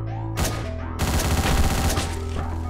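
Gunfire from the top-down action game Hotline Miami on PS3: a dense burst of loud, rapid shots with booming low end, firing continuously over a driving electronic soundtrack.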